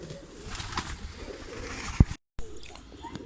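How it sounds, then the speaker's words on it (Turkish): Homing pigeons around a loft coo softly in low, throaty calls at moderate distance, with a sharp thump partway through and a brief drop to silence, and no speech. "baya bir kuş da geziyor"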